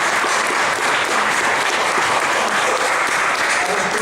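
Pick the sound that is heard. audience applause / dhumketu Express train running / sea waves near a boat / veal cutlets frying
audience applause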